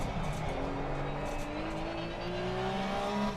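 Porsche Cup race car in Assetto Corsa Competizione at Kyalami or Spa: a steady engine whine rising in pitch as it accelerates through the gears, mixed with faint tire noise, continuous and moderately quiet.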